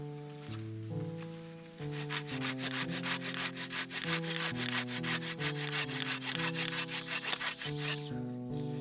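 A handsaw cuts across a wooden bow stave for a survival bow in rapid, rhythmic back-and-forth strokes, loud and close, with a steady rasping scrape on each pass and a short start-up before the full sawing rhythm.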